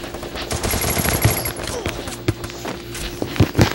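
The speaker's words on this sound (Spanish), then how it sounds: "no puedo disparar así." Rapid automatic gunfire bursts in a shooting video game's training mode, crackling repeatedly with sharp louder shots toward the end, while a player talks over the action.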